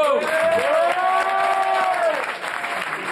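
Applause from a studio audience rises and holds steady, with a few voices whooping over the clapping before it starts to fade.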